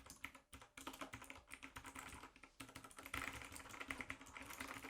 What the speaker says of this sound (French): C'est vraiment un clavier Bluetooth mais rétro. Voilà. Noki Remake USB et c'est un clavier mécanique.